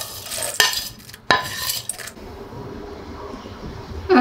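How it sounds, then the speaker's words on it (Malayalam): Fried jackfruit seed chips tossed with salt and chili powder in a bowl give a few sharp clinks and scrapes of a spoon against the bowl early on, then fade to a quieter rustle. "ഇതിൽ കൊടുത്തിട്ട് നന്നായി മിക്സ് ചെയ്യാം"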